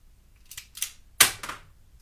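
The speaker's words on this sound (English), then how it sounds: "and it kicked the round out of the chamber there" Handgun slide racked back and released, ejecting a round from the chamber; a few sharp close metallic clacks over about a second, the loudest a crisp snap near the end, no speech.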